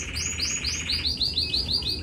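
Canary chicks chirp and beg for food in a series of rapid, high, rising peeps, repeating roughly every quarter second and growing louder partway through, with a steady low murmur underneath.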